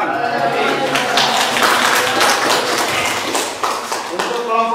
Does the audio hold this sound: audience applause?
yes